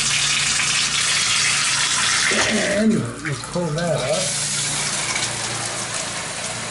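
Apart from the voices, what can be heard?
shower running at full water pressure in tiled bathroom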